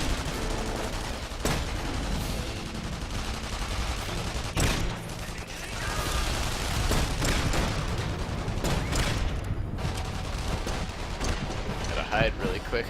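Constant gunfire crossfire in the video game The Saboteur, dense repeated shots and booms packed together at steady loudness, with a voice talking over the battle.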